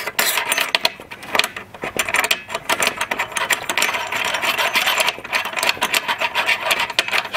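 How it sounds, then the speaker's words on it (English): A screw being driven into a bracket, with repeated rapid ratcheting clicks and mechanical whirring that come in bursts close by, with no talking. "Screw that in really quick."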